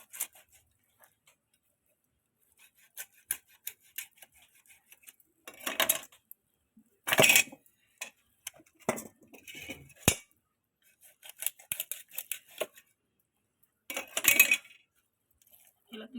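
Knife chopping through a fish on a cutting board, with sharp, irregular cuts and taps in bursts, a few heavier thuds between quieter gaps, close and clear, with no talking.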